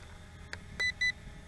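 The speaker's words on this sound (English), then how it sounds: "Double beep and let's go." A Potensic D60 GPS camera drone gives a double beep, two short, clear electronic tones in quick succession, faint over low outdoor background noise.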